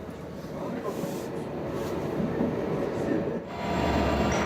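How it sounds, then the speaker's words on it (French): A passenger train pulls out of a station, a rumbling rolling noise that swells steadily under a quiet voice and grows louder toward the end. "Le train part enfin."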